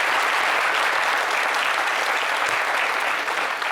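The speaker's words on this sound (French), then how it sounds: "j'aimerais qu'on applaudisse" Dense, continuous applause from a large audience for the artist Didi B on a entertainment show, steady and loud throughout, with no voices standing out.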